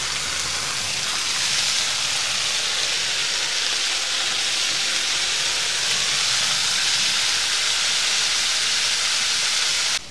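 Bell pepper frying over high heat on a sadj pan: a loud, steady hissing sizzle that fills the whole stretch, near and constant, with no talk.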